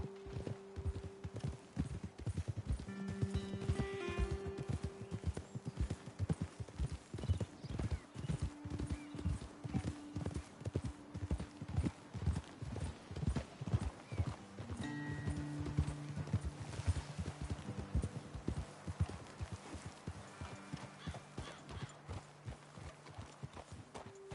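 Horses walking steadily on a trail, hooves clip-clopping in a close, regular rhythm throughout, with an occasional whinny and no voices.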